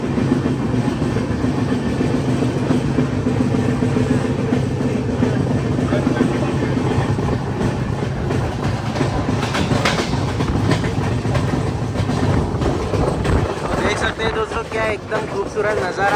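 The Swaraj Express passenger train, running between Jammu and the Vaishno Devi area, rolls along the rails with a steady loud rumble and rhythmic wheel clatter heard from inside the carriage, with talk in the cabin mixed in.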